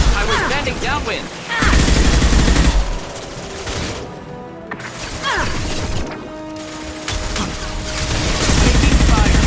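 Loud bursts of rapid automatic gunfire from the video game Mass Effect 2, coming in dense volleys separated by short lulls, with game voices calling out over the shooting.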